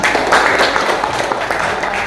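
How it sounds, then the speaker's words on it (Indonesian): A class of students applauding indoors, a steady, fairly loud wash of clapping lasting throughout. "Ya, tepuk tangan untuk semuanya."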